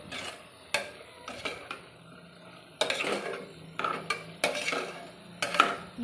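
Ground coconut masala stirred with vegetables in oil in a pan, a series of close metallic scrapes and clinks of a spoon against the pan in uneven bursts, with quiet gaps between.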